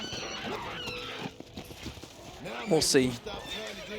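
A horse in the zombie western game Red Dead Redemption: Undead Nightmare whinnies briefly, close and fairly loud, amid hoof clip-clop and game noise, with someone talking over it.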